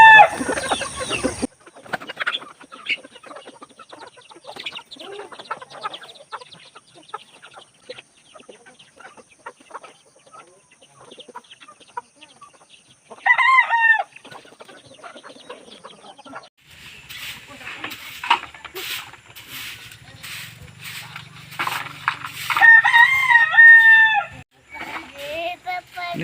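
Chickens cluck scattered and soft around a rural farmyard, with a rooster crowing and louder clucking bursts later on, while a person talks intermittently.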